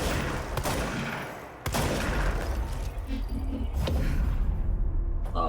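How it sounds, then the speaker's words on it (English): Shotgun blasts and other gunfire in the game Control, a few sharp booming shots standing out from a busy, rumbling mix of combat effects, with faint talk underneath. "the shotgun doesn't go far enough"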